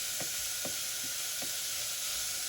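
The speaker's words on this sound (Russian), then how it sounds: "К луку отправляю морковь, обжариваю, тушу их вместе 3-4 минуты на среднем огне и под закрытой крышкой." Onions and carrots sizzling in a covered pot over medium heat, a constant bright hiss with a few soft stirring scrapes, close by and without voices.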